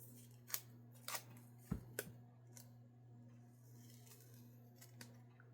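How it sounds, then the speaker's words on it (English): Scissors snipping the white edges off paper for a craft project: a few crisp close cuts in the first two seconds, then quieter scattered snips over a low steady hum, without speech. "So I'm just going to cut off these white edges."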